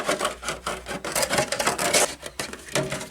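Scissors trim excess plastic from a Tamiya DT03 RC car body, giving a steady run of close, rasping and rubbing cuts with short pauses between snips.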